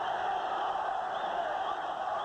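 A largely Mexican and Mexican-American boxing crowd roars and chants continuously for junior featherweight Lupe Pintor during his bout with Jorge Lujan, a dense, steady wall of shouting heard from across the arena.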